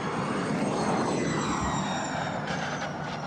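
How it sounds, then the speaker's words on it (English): Formula E electric race car at the 2020 Berlin E-Prix at Tempelhof Airport, screaming down the straight with a rising and falling whine like an aeroplane, loud and continuous with the pitch sweeping as it passes. "Sounds like an aeroplane going down the straight today from that angle."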